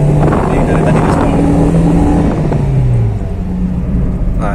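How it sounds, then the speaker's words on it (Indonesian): A Honda Jazz or Toyota Yaris engine pulls at full throttle, a loud steady drone climbing in pitch under wind and road rumble from inside the cabin, with someone talking over it. "Ini dari tadi gaspol."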